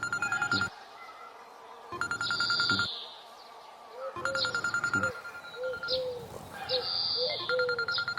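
An old-style telephone bell rings in repeated loud bursts with pauses between them, close by, as a film scene plays with music and voices around it.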